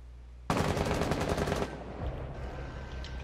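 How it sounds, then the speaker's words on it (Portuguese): Automatic gunfire from the tactical shooter game Rainbow Six Siege, a loud dense burst of rapid shots lasting about a second, then a lower rumble of game ambience. "Olha o Sledge tomando um tiro"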